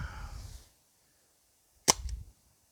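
A CO2-powered dart blaster fires a single Gen 3 foam dart, a sharp close pop with a brief hiss after a moment of silence, with some low rumble around it.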